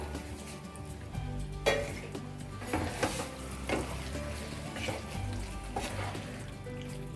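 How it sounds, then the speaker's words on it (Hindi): Lightly fried paneer goes into a sizzling vegetable gravy for restaurant-style mixed veg, giving a steady moderate hiss broken by a few soft clinks and stirring scrapes in the pan. "अब जो पनीर को हमने फ्राई करके रखा था ना हल्का हल्का, वो इसमें ऐड कर देंगे सब चीज़ों को"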